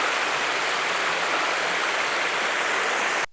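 Water rushes steadily in a waterfall stream near a hillside temple, a dense, even hiss that holds throughout before cutting off abruptly.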